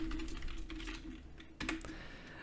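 Code is typed on a computer keyboard in a quiet, steady patter of soft key clicks with a faint hum behind it.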